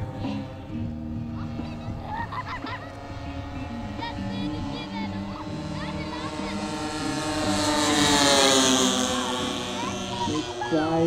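A radio-controlled Cessna 310 Turbo model plane with two gasoline engines flies past at an airshow, a steady buzzing drone that swells as it nears and fades, with an announcer talking over it.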